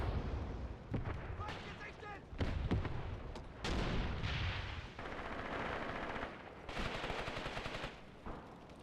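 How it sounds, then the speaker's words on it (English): Machine guns firing in the Graviteam Tactics: Mius Front war game during the defence of Saur-Mogilskiy, loud sustained bursts and rattling volleys mixed with heavier booming blasts, with someone talking over the gunfire. "Our own MG guns are firing."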